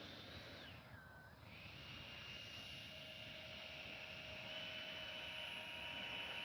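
A Freewing Yak 130 RC model jet's ducted-fan engine gives a steady, throaty whine that slowly builds in loudness. Heard from a runway in cruise mode with flaps up, it is faint and distant with no talk.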